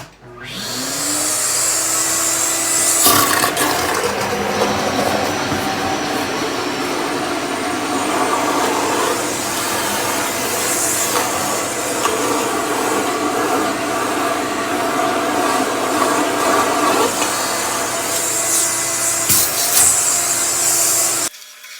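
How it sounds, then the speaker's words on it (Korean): A Makita wet/dry dust extractor roars steadily for the whole stretch, with occasional rattling and sucking shifts as it pulls a toothpaste tube out of a toilet. "제가 가지고 있는 마키타 건식 습식 겸용 집진기를 이용해서 치약통을 한번 빼보도록 하겠습니다."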